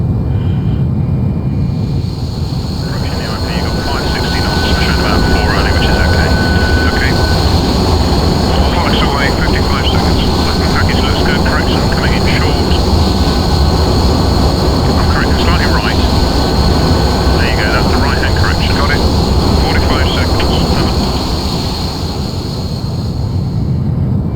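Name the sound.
MilViz F-4J Phantom II jet flying fast in a flight simulator game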